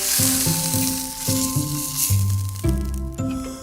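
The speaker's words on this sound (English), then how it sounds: "The reason for browning them is it seals the outside." Lamb shanks brown in a hot pan with a loud, continuous sizzle and spit. Background music with a bouncing rhythm plays along the whole time, and nobody speaks.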